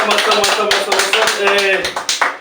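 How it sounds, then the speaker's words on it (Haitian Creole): Applause at a Flag Day gathering, a crowd clapping steadily and fairly loudly for a couple of seconds, with voices over the clapping. "Encore applaudissement,"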